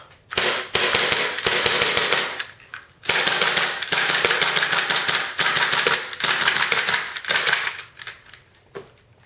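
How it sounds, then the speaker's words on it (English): A Taurus PT92 gas blowback airsoft pistol, fired without BBs, cycles its slide in rapid bursts of loud, sharp mechanical snaps, with short pauses between the strings of shots. "when it's got no BBs in there, the slide will still work and functional"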